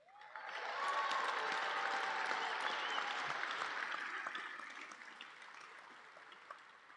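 Sustained applause from a large audience honoring graduating Arizona State University student athletes, a dense wash of clapping that swells in the first second, holds steady, then slowly fades.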